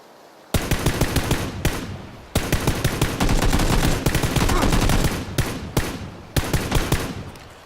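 Player's automatic gun firing in PUBG Battlegrounds, several loud close bursts of rapid shots separated by short pauses.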